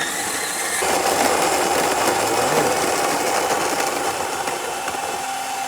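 A coffee grinder whirring through a small handful of beans, a dense continuous grinding buzz that starts abruptly and holds steady for several seconds, close and loud with no talking.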